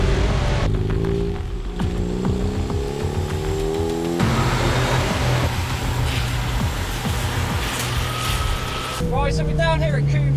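A Ford Fiesta race car on a track shakedown at Castle Combe circuit, its engine droning and revving through gear changes over ten seconds, loud and steady, with someone talking over it.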